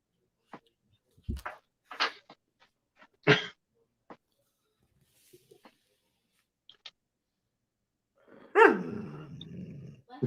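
A dog indoors gives short, scattered growls, grumbles and sharp snorts with quiet gaps between them, then a louder burst of growling and barking near the end.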